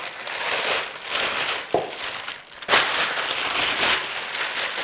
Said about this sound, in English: Now grab a trusty baking bag or plastic bag.